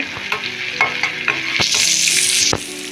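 Asafoetida and chopped dried red chili sautéing in hot oil, a loud close sizzle that swells midway, punctuated by repeated sharp scraping knocks of a spoon stirring the pan.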